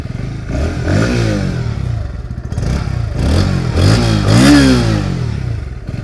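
Bajaj Pulsar NS160 BS6 motorcycle engine revving up repeatedly, rising and falling in pitch with a throaty, loud, close tone and no talk.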